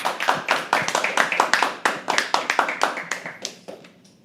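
An audience at a live poetry open mic clapping in unison, sharp regular claps in a steady beat that gradually thins out and fades toward the end.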